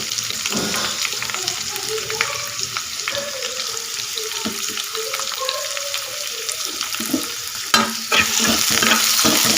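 Onion and green chili frying in oil with mustard seeds and curry leaves, a steady loud sizzle with stirring scrapes and clatter throughout, no talk.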